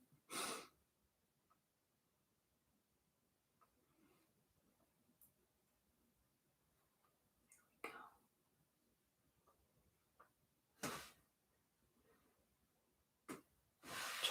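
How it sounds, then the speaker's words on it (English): Several short, sharp nasal bursts spaced apart over a quiet background, like a dog sneezing a few times nearby. "That's a dog sneezing in the background."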